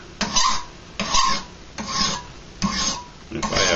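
A hand file worked across a forged steel knife blade, five evenly spaced rasping strokes, each a close, harsh scrape followed by a short pause.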